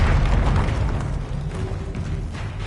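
A Confringo fire spell bursts in Hogwarts Legacy with a loud, dense rumbling boom that rolls on steadily for a couple of seconds, low and heavy throughout, with no voices over it.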